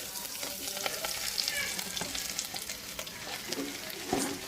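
Cumin, curry leaves, potato and cabbage fry in hot oil with a dense, continuous sizzle, broken by the occasional stir and scrape close by, and no voice is heard.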